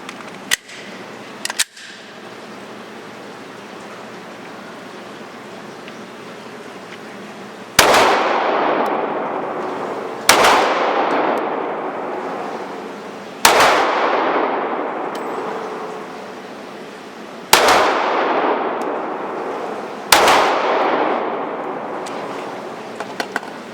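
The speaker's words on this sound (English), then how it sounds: "I'm gonna put 5 rounds downrange, and while I'm shooting those 5 rounds" An HK VP9 pistol fires five rounds at a shooting range, sharp loud reports spaced a few seconds apart, each trailing into a short echoing decay, after a couple of small clicks at the start.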